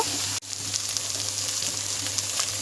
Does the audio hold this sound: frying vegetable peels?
yes